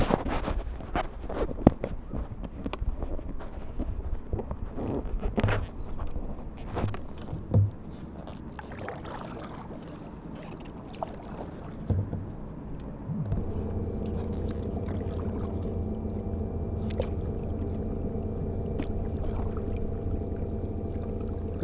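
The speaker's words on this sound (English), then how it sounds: "that's with the motor turned on now" A small boat motor starts up on a river after wind and splashing, settling into a steady, loud, even drone that continues to the end.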